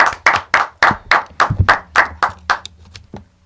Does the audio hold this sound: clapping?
yes